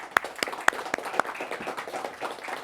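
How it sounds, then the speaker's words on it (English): Students in a quiz bowl studio give a brief round of applause: a few sharp individual claps ring out first, then a softer, thinner patter of clapping follows. "Give yourselves a round of applause, absolutely."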